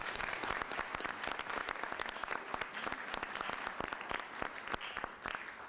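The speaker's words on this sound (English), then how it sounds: "Round of applause," Applause from attendees at a city council meeting, many hands clapping in a continuous crisp patter, moderately quiet and slightly distant, with no talking over it.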